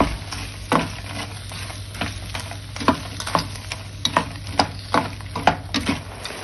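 Porcini mushrooms sizzle in a frying pan, a constant light crackle broken by repeated sharp stirring scrapes and taps at a fairly regular pace, close and clear with no talk.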